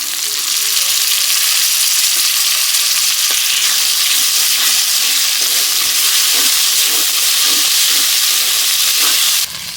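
Ginger and garlic paste with spices sizzle loudly in hot mustard oil in a kadai, a dense, steady frying hiss that runs unbroken and close, with faint stirring scrapes underneath.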